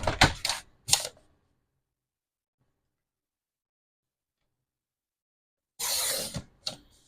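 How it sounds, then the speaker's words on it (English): Paper is trimmed for a handmade mini album, with a few brisk cutting strokes up close, a long stretch of silence, then one longer scraping slice followed by a short tap. "I'll go ahead and trim that"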